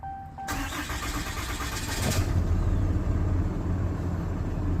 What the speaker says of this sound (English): it might take 10 seconds or more of cranking to actually get this thing to start